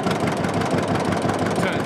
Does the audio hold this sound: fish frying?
no